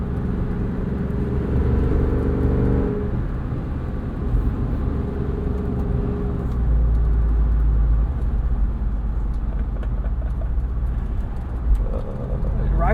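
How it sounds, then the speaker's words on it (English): A 2021 Jeep Wrangler Rubicon 392 with its V8 drives on the road with the top off, giving a steady low engine and exhaust rumble with road and tire roar beneath. "All the exhaust note, all the engine induction sound, these tires roaring away."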